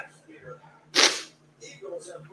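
A single sharp sneeze bursts out around the middle, loud and close, with people chatting on either side of it during a live NFL Draft talk show.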